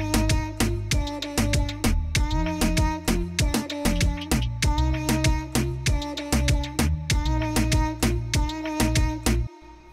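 A beat loops with chopped vocal samples over punchy drums and a deep bass line, steady and rhythmic with repeating bar-length patterns, played loud and alone without talk.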